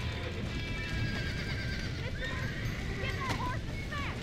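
Horses whinny and neigh over steady hoofbeats in the video game Red Dead Redemption, the calls rising above a continuous clip-clop and ambient rumble, with a voice talking alongside.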